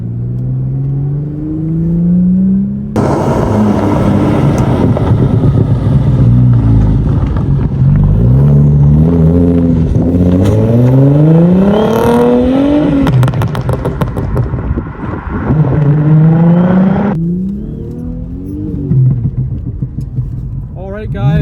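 Audi S4 B5 engine revving hard with crackling exhaust: loud rising and falling revs through several gear pulls and throttle blips, popping crackle on lift-off, with people talking over it.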